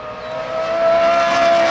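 A Lamborghini Gallardo fitted with an aftermarket megaphone exhaust revs up loud and close, its raspy, high-pitched engine note rising and holding steady.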